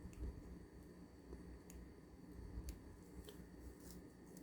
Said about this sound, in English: now we need to cut the old string